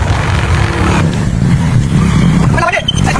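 A vehicle engine rumbles low and steady while driving, close and loud, with someone talking over it.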